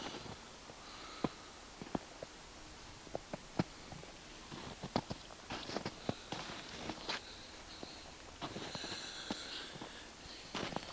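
Quiet, repeated sniffling, short nasal sniffs scattered irregularly over steady background hiss, with a few soft knocks and shuffles.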